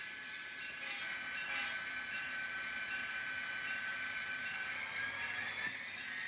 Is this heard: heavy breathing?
no